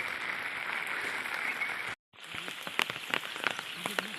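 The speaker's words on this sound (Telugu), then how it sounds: "ఇప్పుడే స్టార్ట్ అయింది రెయిన్." Steady patter of rain falling on a surface, briefly cutting out before resuming with scattered sharper drips and taps.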